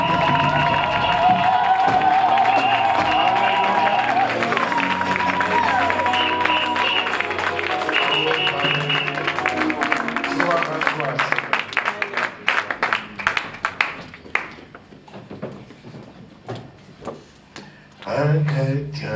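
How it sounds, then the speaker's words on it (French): A church congregation at a Sunday service applauds and cheers for Jesus, with loud crowd cheering and sustained voices giving way to dense rhythmic clapping that thins out into scattered claps. "Est-ce qu'on peut acclamer pour Jésus?"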